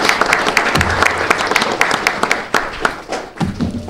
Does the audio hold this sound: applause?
yes